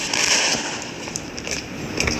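Diwali firecrackers bursting in an Indian bike-driving video game, a dense stream of crackling pops and hiss over continuous broadband noise, moderately loud and close, with no talking.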